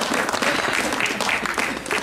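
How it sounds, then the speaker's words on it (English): Dense, steady applause from an audience at a mayoral campaign event in Niagara Falls fills the whole moment with a continuous roar of many clapping hands. "you'll be able to clap louder"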